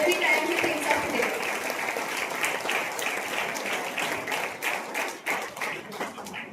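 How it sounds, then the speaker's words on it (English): An audience applauds a chief guest at a school news presentation contest in Goa, steady clapping that thins toward the end into scattered, uneven claps. "Let's give our chief guest a loud round of applause."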